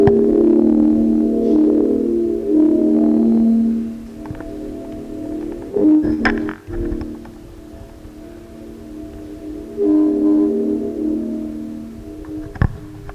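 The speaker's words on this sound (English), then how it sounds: "And then after half an hour of re-recording the same audio, it sounds like this." A speaking voice played back into a room and re-recorded over and over for half an hour, now reduced to a steady, droning ambient hum of resonant tones with soft swells and a few small clicks, no words left.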